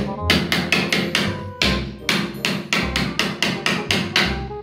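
A toy plastic hammer strikes a block of ice in a home experiment, giving about a dozen sharp, loud knocks in an uneven rhythm close by. There is no talk over the hits.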